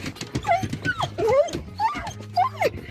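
Dogs whimper and yip close by, a run of high, sliding whines and short yelps broken by brief gaps.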